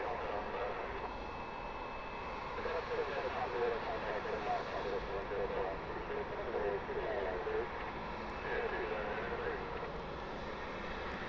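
A Southwest Airlines jet arriving from Austin lands at John Glenn Columbus International Airport, giving off a steady, broad engine roar that holds at a moderate distance for the whole stretch without fading.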